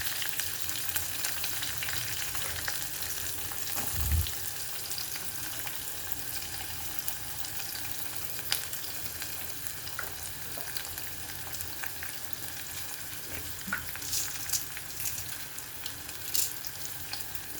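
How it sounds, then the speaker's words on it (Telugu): Curry leaves, onion and green chilies frying in a pan for a tomato and flat bean curry, a steady, close sizzle with occasional stirring taps and scrapes throughout. "కరివేపాకు, ఉల్లిపాయ, పచ్చిమిర్చి కూడా వేసేసుకుందామండి."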